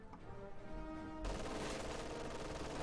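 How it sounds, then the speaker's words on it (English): Gunfire in Company of Heroes 2, from a German MG-42 machine gun, crackles in a dense, sustained burst that cuts in abruptly partway through after a quieter stretch of low rumbling and tonal battlefield ambience. "MG-42 is going to shoot the conscripts out of these buildings eventually."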